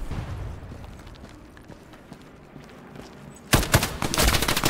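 Burst of rapid gunfire erupts loud and close in a military shooter game after a quieter stretch of low ambient rumble, several sharp shots in quick succession.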